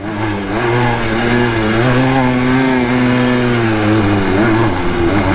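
A Honda ATC 250R three-wheeler engine ridden hard, loud and close, with a sustained high-revving two-stroke whine that rises and falls slightly as the throttle is held open.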